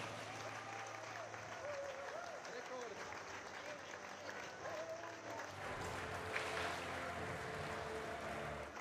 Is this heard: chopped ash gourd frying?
no